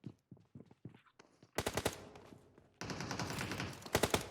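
Gunfire in Shelter, a mobile shooter video game played on an iPhone 13 Pro Max: scattered single shots, then loud rapid automatic bursts and a dense sustained barrage, close and punchy, with no talking.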